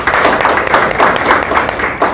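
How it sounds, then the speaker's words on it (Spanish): Audience applause welcoming a woman called up to the front at a live show, a steady wash of clapping hands that stays even and fairly loud throughout. "Aplausos para la compañera."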